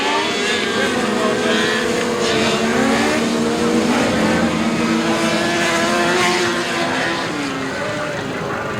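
Restrictor class race cars circle a short track speedway at Gulf Coast Speedway, a steady roar of several engines droning and revving together at a moderate distance, with no clear pause.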